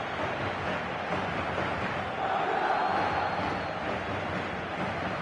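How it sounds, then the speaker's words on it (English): Stadium crowd noise from the eFootball video game, a steady broad roar at even level throughout with a slight swell in the middle, no clear chants or cheers standing out. "the crowd have tried to spark some excitement, but to no avail"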